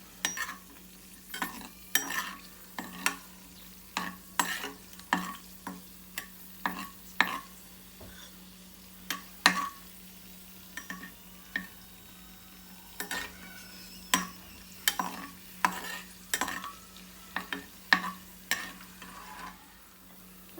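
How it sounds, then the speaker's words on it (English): Cashews frying in hot oil over a low flame, with regular scraping stirs and utensil clicks against the pan every second or so over a quiet, faint sizzle, close and intermittent. "As soon as your oil is hot, keep it low and then fry it."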